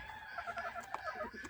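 Brahma chickens cluck in short, faint bursts at a moderate distance, the calls overlapping unevenly in a low-level poultry chatter.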